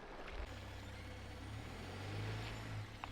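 A car reverses onto a pier during a family overland trip in Norway. It sounds as a steady low engine rumble with a swell of revving midway, heard from nearby and outside the vehicle, with a few faint short tones near the end.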